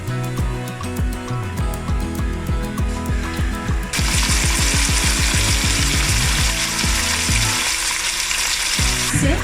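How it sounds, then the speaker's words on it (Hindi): Half a kilo of chicken fries in oil with lightly browned onions, producing a dense, loud sizzle that swells midway under steady rhythmic background music. "जब हम चिकन को ऑयल में फ्राई कर रहे हैं"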